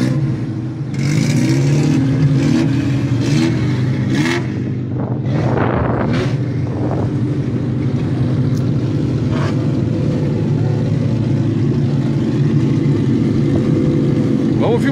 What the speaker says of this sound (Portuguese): Carros já prontos para sair, o pau vai pegar,